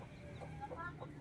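A mother hen with newly hatched chicks clucks softly on a farm, a few low, quiet calls spread over a brief moment alongside faint background noise.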